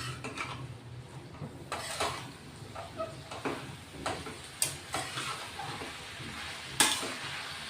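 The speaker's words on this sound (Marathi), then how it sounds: "ही धुवून ठेवलेली भाजी टाकून घेतोय आपण आता" Washed leafy greens going into a hot pan, with a soft background sizzle broken by repeated scraping and stirring strokes of a spatula against the metal at an uneven pace, fairly close and moderate in level.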